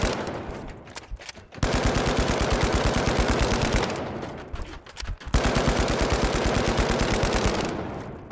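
Automatic fire from an FCAR rifle in a first-person shooter, two long, loud, rapid bursts of evenly spaced shots separated by a brief pause, each burst running several seconds, with no talk.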